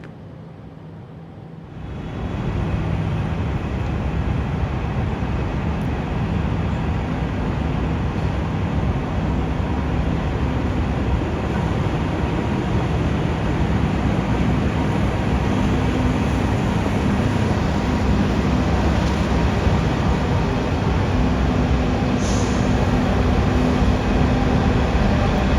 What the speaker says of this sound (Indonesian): dari arah sono ada datang kereta apa pula itu pakai puang